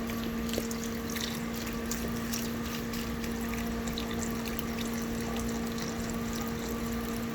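Broth pours steadily from a 32-ounce container into a crock pot, a continuous liquid rush with a faint steady hum beneath it and no break in the flow.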